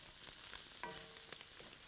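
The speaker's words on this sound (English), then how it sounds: "strips of cabbage are tossed in and stir-fried for 5 or 6 minutes so it stays crunchy and delicious" Cabbage strips stir-fry in a hot pan, a steady sizzle broken by a few brief clinks and scrapes of tossing, close and moderately loud with no talking.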